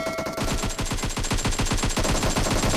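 Fast, steady automatic AKM rifle fire in PUBG Mobile, a continuous rhythmic stream of close, loud shots lasting nearly three seconds with no talk over it.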